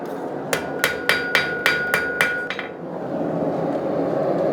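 A forged knife blade is struck repeatedly with a hammer, about eight sharp ringing metallic taps at a steady rhythm, close and loud, followed by low room noise.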